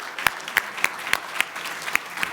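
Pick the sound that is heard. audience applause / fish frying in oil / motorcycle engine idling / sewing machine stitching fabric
audience applause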